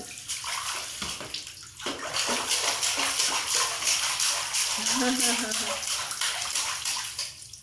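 A toddler aged one year nine months plays in bath water, steady splashing and sloshing with running water throughout, a voice breaking through now and then, all close and fairly loud.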